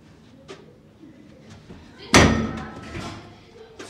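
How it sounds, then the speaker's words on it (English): A door opening and slamming shut in a game, with faint handling clicks leading up to one loud, sharp slam that rings out briefly. "How to open a door."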